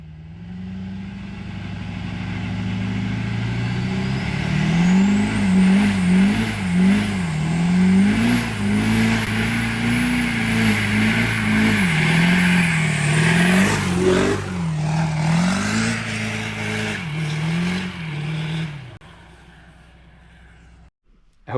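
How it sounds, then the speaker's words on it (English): A 700hp 6.7 diesel pickup truck does a Fourth of July burnout, its engine roaring loud and close through repeated revving surges for about twenty seconds, with a high tire squeal riding on top before the noise drops away. "I'm actually going to insert a burnout video that I took, well, that my girlfriend took of the truck on 4th of July."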